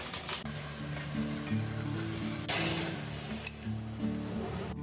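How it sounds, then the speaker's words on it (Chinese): Beef steak pan-frying in oil in a hot iron pan over medium-high heat gives a steady, close sizzle throughout, with a sustained tonal hum underneath and a louder burst of crackling midway. "油热过后，我们就把牛排放上去，中大火煎。"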